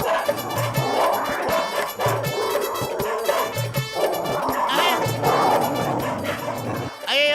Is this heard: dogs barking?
yes